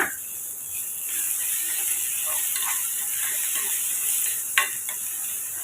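Green beans for beans poriyal being stirred into a pan, a soft continuous sizzle with scraping and rattling of a spoon against the pan, plus one sharper knock near the end.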